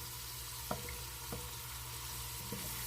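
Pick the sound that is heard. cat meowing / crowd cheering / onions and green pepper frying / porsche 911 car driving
onions and green pepper frying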